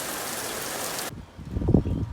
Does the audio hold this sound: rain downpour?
yes